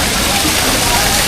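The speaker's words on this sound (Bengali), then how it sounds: "আমার ঠিক পাশে ছোট ঝর্ণা" A small waterfall in the hills of Panchgaon, Kalmakanda, near the Meghalaya border, rushes in a loud, steady broadband wash of falling water, close by and continuous.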